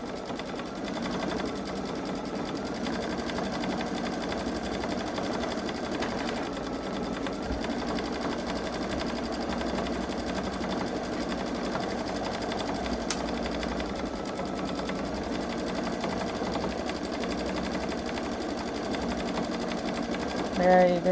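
A Baby Lock Solaris Vision sewing machine quilting an edge-to-edge star design, running at a steady, continuous mechanical whir throughout.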